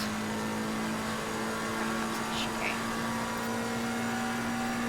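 Race car engine in a sim racing video game, a steady sustained drone with a faint rising whine as it accelerates out of a corner toward the straight, no talking.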